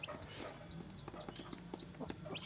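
Several short clucks from a young rooster of the Jeki Jeger chicken line, repeated in a loose rhythm at close range with light background noise and no talking.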